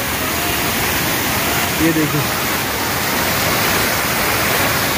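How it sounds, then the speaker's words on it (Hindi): A mountain stream swollen by heavy rain rushes across a road in a loud, continuous roar of water that fills the whole scene, with a brief spoken phrase almost buried underneath. "गधेरे ने अपना रूटीन जो मार्ग है वो चेंज किया, और इधर साइड से आ रहा है।"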